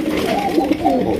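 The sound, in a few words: Lahori pigeons cooing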